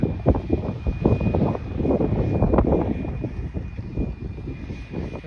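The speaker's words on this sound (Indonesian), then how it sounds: "pengen lihat ini orang Jepang lagi panen teh pakainya mesin" A tea harvesting machine works in a Japanese tea field on a sunny day, its engine giving a continuous, rough, rumbling drone that stays fairly steady and moderately loud, with no voices.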